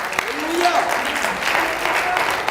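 A church congregation claps during a Spanish-language Bible study, dense steady applause filling the whole stretch, with voices mixed in.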